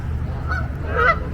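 Geese in a large mixed flock of birds waiting for food, honking loudly and close by in a couple of quick nasal calls, with no talking.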